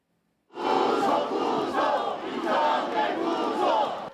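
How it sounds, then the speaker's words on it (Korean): A large crowd at a rally in a plaza at the Chungbuk provincial government office shouts and roars together in sustained waves, loud and close, with no clear individual voices. "충북도청 쌈지광장이 다시 함성으로 가득 찼습니다"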